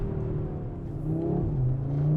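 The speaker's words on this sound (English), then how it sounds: "Pop the car then into manual mode and you start to rev it out." An Audi RS 3 five-cylinder engine revs in manual mode, its steady low rumble building in pitch and loudness toward the end, heard up close with no talk.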